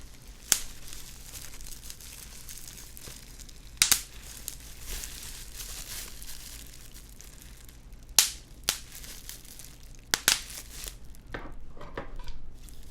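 Bubble wrap is handled close to the microphone while a PlayStation 2 is unboxed, giving faint rustling with a few sharp pops and crinkles spaced irregularly against quiet background hiss.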